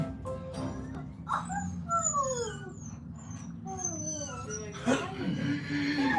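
A dog whimpers and whines in high, sliding cries, repeated several times at close range over a low background hum.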